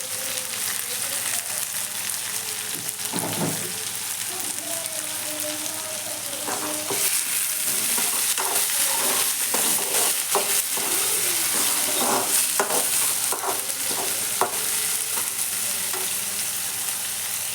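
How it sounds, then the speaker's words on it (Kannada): Tempering sizzles in hot oil for chitranna rice, a steady bright frying hiss with occasional stirring clinks and scrapes, close and continuous from start to finish. "ಅನ್ನಕ್ಕೆ ಒಗ್ಗರಣೆ ಕೊಡಕ್ಕೆ ಕುಂತಾಳಲ್ರಿ"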